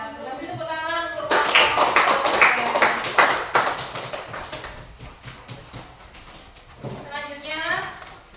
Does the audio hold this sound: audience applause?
yes